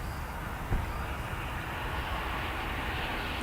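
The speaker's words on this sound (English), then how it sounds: "let us prepare for the arrival of this Airbus 321 from Fort Lauderdale" An Airbus A321 from Fort Lauderdale arrives at DFW Airport, a steady broad jet roar holding at an even level, distant and continuous with a brief thump early on.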